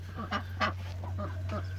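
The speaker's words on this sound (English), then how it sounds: "I got one broody duck, so she's gonna make some noise at us" A broody duck inside a coop gives several loud, harsh honking quacks in an irregular series over a steady low hum, with no talking.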